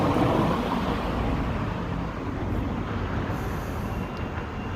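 A train rides along the tracks with a steady, dense rumble and rolling rail noise, even and continuous throughout without clear clacks or horn.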